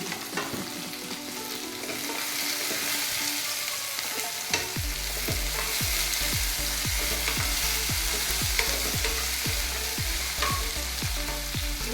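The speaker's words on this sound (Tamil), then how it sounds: "பீன்ஸு, கேரட்டு, உருளைக்கிழங்கு லைட்டாக வதங்கட்டும்" Beans, carrots and potatoes sauté in a pan for white kurma, with a continuous sizzle. Rhythmic spatula scrapes begin a few seconds in and repeat evenly, close and clear, with no voices.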